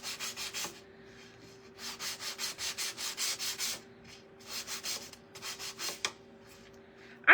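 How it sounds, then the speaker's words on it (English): Hand sanding of a wooden patriotic cutout, rhythmic back-and-forth scratchy strokes in several bursts with short pauses between them, close and alone, ending with a sharp knock. "Okay, I am going to sand this down just a little bit."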